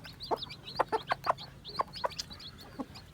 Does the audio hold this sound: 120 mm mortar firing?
no